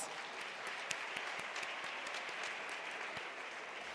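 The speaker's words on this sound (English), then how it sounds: "Please, let's give them one more round of applause." Audience applause filling a hall after an onstage conversation at a Dell-hosted event, steady dense clapping with scattered sharper claps, sustained and fairly distant, no talking.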